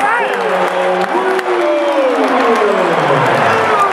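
Loud crowd roar and cheering at a high school basketball game between IMG Academy and Poly after a flush dunk, sustained over the whole stretch with a commentator talking over it.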